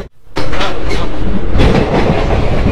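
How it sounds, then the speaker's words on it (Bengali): Loud, close rumble and rattle of a train from Kolkata running at about 58–60 km/h on the Digha line, heard from inside the sleeper coach with a steady clatter of wheels. "দীঘা লাইনে ঢোকার পরে ট্রেনের স্পিড চলছে 58, 60 এইরকম করে"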